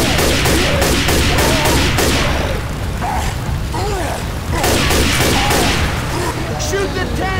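Rapid, loud gunfire aimed at the Tank in Left 4 Dead, dense overlapping bursts of shots in two long volleys, with shouting voices mixed in.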